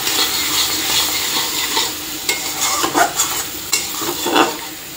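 A spice paste of cumin and dried red chilli frying in hot oil for a paneer dish, with a steady sizzle broken by repeated scraping knocks of a spoon stirring the pan, loud and close.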